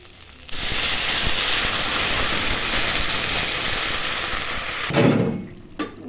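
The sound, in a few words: water poured into hot frying pan, hissing steam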